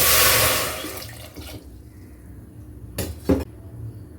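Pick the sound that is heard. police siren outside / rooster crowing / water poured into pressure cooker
water poured into pressure cooker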